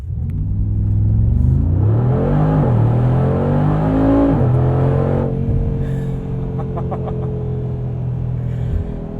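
A 2020 Mercedes-AMG G63 SUV launching from 0 to 60 mph, its engine roaring loud and close as the revs climb, drop at each gear change and climb again, then settle into a steady droning cruise.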